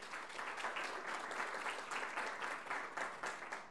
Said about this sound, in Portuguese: Uma salva de palmas aos painelistas